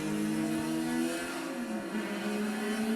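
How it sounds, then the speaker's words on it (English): Race car accelerating hard in first gear at a wet race start, a steady rising engine whine with clear harmonics climbing in pitch, loud and close, sounding alone. "just as I'm accelerating in first gear, the starter throws the green"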